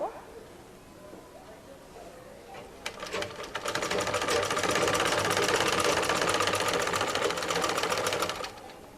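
A sewing machine stitching elastic into a salwar waistband starts after a quiet moment and runs in a fast, steady, close mechanical chatter for several seconds before slowing to a stop.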